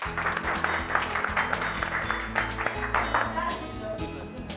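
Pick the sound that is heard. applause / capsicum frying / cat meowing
applause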